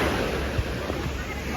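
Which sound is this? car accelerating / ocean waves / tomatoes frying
ocean waves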